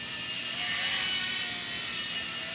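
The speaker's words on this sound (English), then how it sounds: "It's really an amazing little helicopter from what I could tell so far." An E-flite Blade MSR micro RC helicopter flies nearby, and its tiny rotors and motor make a continuous high-pitched whine and buzz. The sound stays steady and loud throughout, with no talking.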